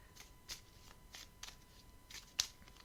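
Lenormand cards being shuffled for a fortune-telling reading, giving soft, intermittent riffling bursts with a few sharper snaps, close and quiet with no talking.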